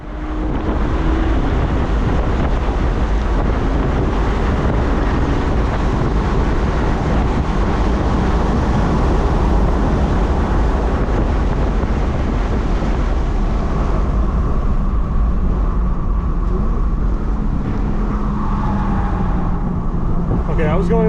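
A BMW car lapping a race track fast makes a loud, constant engine roar mixed with heavy wind buffeting, heard from inside the car with no letup.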